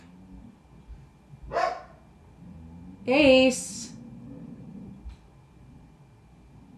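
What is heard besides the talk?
dog barking at someone across the road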